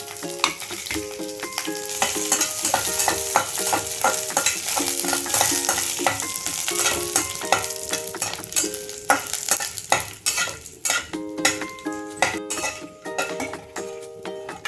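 Red chillies fry in hot oil in a pan, giving a steady close sizzle with a stirring spoon scraping and clinking against the metal throughout. The dish is a Telugu ivy gourd lemon chutney.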